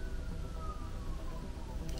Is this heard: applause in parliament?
no